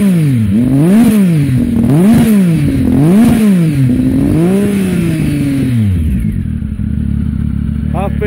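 Triumph Tiger motorcycle with its Arrow exhaust baffle removed, revving hard in several loud rising-and-falling bursts before settling to a lumpy, uneven idle; the open exhaust sounds close and dominant.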